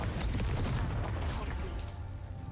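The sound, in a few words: Confringo explosion spell cast in video game Hogwarts Legacy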